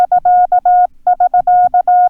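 Morse code tones send the SK prosign as clean, steady beeps at a single pitch. Short and long pulses form two groups separated by a brief gap, loud and close, with no voice.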